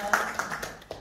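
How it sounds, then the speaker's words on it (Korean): A few scattered hand claps at a Rotary club meeting, sparse and uneven, roughly four distinct claps in quick succession at moderate distance. "고생했다고 박수 한번 드릴게요"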